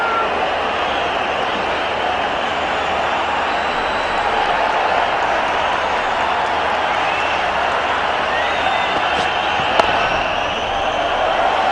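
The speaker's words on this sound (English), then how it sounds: "Great response from the crowd." A cricket crowd at a T20 match between India and Australia in Mumbai keeps up a steady, distant roar with scattered applause, and a sharp single knock stands out near the end.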